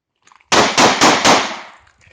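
Four rapid, loud gunshots from a German P.08 Luger pistol at an outdoor range, fired in quick succession with a short echoing tail and faint clicks just before.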